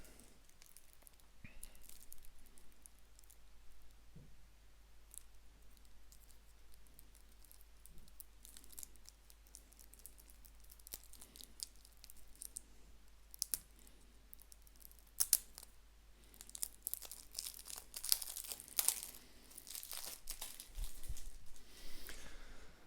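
Sealed card decks for Dark Souls: The Board Game are unwrapped, with faint crinkling and tearing of plastic wrap and light card handling, close and quiet, turning into busier scratchy rustles toward the end.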